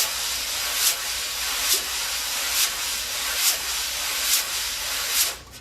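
Wire drum brushes play with both hands, one hand sweeping in steady circles while the other moves the opposite way, a continuous close hiss with soft accents pulsing on each beat.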